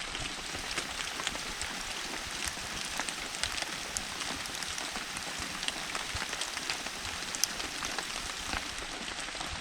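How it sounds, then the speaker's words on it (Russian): Steady rain patters through the night on a small green forest hut in winter, a dense, even hiss with scattered close drops tapping out in a soft, continuous wash. "Вот так вот всю ночь шел дождь."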